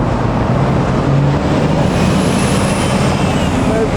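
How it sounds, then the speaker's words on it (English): A red London bus rolls past on a busy Westminster street, its diesel engine rumbling loud and close amid heavy traffic, with a rising hiss and squeal of air brakes toward the end. "Okay, so we got some London buses coming."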